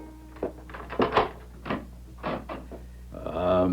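A door being opened in a radio mystery drama, heard as a handful of close wooden thumps and clunks, followed by a steady creaking, tonal swell at the end.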